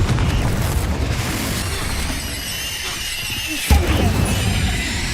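A blasting-curse explosion in a wizarding video game: a dense, roaring burst of rumbling noise fills the scene, with a sharp crack near the end, loud and close.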